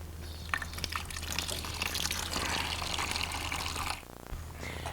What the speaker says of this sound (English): use the drain cock to drain the boiler completely, flushing out any residual foreign material